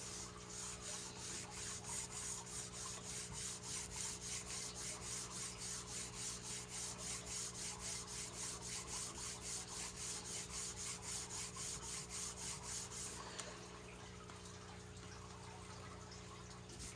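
Steady rhythmic rubbing of glued paper being pressed onto a journal cover by hand, a fast repeating scrape close to the mic for about thirteen seconds before it stops, leaving a quiet hum.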